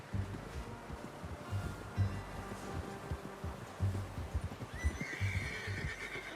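A horse in the Western game Red Dead Redemption 2 gives a clear whinny near the end, over soft hoof clip-clop and breezy wind noise, with no talk.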